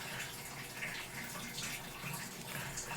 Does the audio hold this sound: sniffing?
no